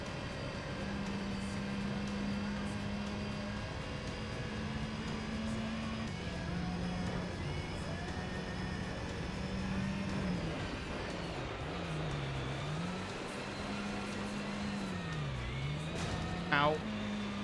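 A car drifts in Gran Turismo 3, its engine droning steadily with the pitch rising and dipping through the slides, a constant loud game soundtrack with a short squeal near the end.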